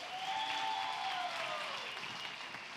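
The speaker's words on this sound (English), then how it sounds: "Let's give them a round of applause" Applause at a championship event for the program directors: a broad, steady patter of clapping from a crowd at low to moderate loudness, with a faint tonal whine running beneath.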